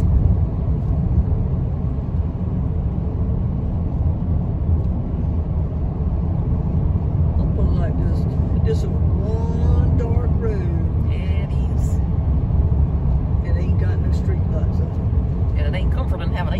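Loud continuous road roar from inside a vehicle on a highway at night while passing 18-wheeler trucks, with people talking over the drone throughout.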